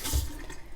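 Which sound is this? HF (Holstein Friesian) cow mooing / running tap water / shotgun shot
running tap water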